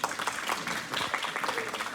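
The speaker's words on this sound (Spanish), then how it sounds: "les pido, por favor, que demos un fuerte aplauso a su compañera Alicia Dar" Classroom applause for a student named Alicia, a steady wash of many hands clapping together at moderate volume for a couple of seconds, with no speech over it.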